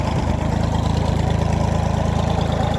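A 22-horsepower Iseki TU220 Japanese compact tractor engine idles steadily at minimum revs with the gearbox in neutral, a close, even low-pitched throb that holds constant throughout without any speech.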